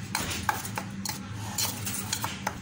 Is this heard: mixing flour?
yes